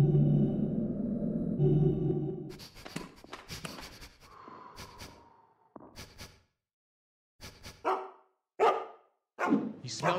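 Guard dogs bark in the stealth game Mark of the Ninja, sharp separate barks after a low droning tone, with growing gaps of silence between them.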